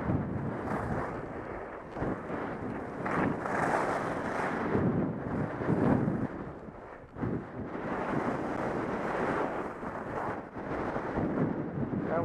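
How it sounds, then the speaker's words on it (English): Strong gusts of wind buffet the microphone on an upper ski slope, a loud continuous rushing roar that swells and dips with a brief lull midway, with no voices. "There is a lot of wind right here."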